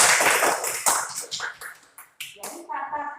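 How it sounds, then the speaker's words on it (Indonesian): Classroom of children clapping for a classmate, a short burst of uneven hand claps that trails into a few scattered claps, with a voice speaking at the end. "Berikan tepuk tangan pada Ibu Arif"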